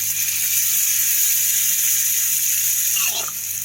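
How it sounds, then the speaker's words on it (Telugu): Hot tempering from a kadai hisses and sizzles steadily as it is poured into tomato chutney made with roasted peanuts, a loud continuous frying crackle that sharpens briefly near the end. "ఇప్పుడు ఈ కడాయిలో ఉన్న తాలింపుని తీసుకొచ్చి ఇందులో వేసేయడమే"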